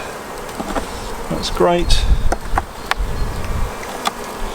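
Honey bees hum steadily around an opened beehive while a queen excluder and super are added, a dense buzzing drone with wooden knocks and clicks, and a person briefly speaks.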